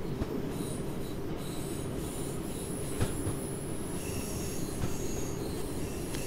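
S-Bahn train running in Train Sim World 2 near München-Pasing: a steady low rumble of running gear with faint squealing wheel tones, continuous and fairly quiet.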